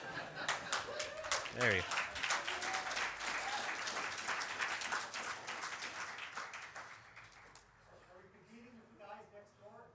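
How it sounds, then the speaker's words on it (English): A modest crowd at the DrupalCon Atlanta 2025 Higher Ed Summit claps for several seconds before the applause fades out, with a voice talking over it and speech continuing afterward. "That was a lackluster applause."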